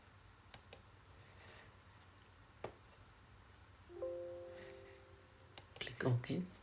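A few sharp computer mouse clicks, spaced and isolated, sound close by at a quiet desk, with a brief electronic tone between them.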